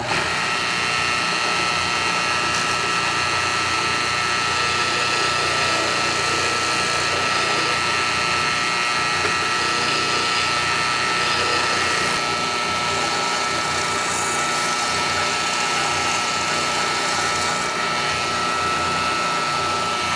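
A grinder sands the bandsaw-cut edges of a wooden slingshot in a continuous harsh, loud grinding whir lasting throughout, with slight shifts in pitch as the wood is pressed against it.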